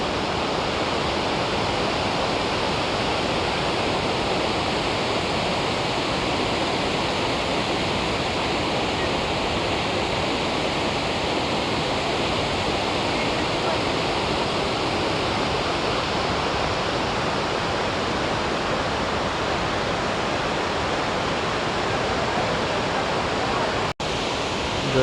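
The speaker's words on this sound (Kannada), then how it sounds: "ಬಟ್ ನೋಡಿ ಎಲ್ಲೆಲ್ಲ ನೀರು ಹರಿತಾ ಇದೆ, ತುಂಬ ಬ್ಯೂಟಿಫುಲ್ ಆಗಿದೆ." Shivanasamudra Falls roars in a constant, broadband rush of falling and flowing water, loud and unchanging throughout, with no distinct voices over it.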